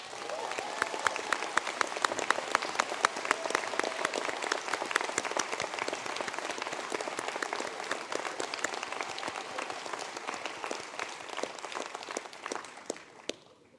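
A hall full of people applauding graduates at an ATU Sligo conferring ceremony, sustained dense clapping with crisp individual claps that holds steady and fades slightly at the end.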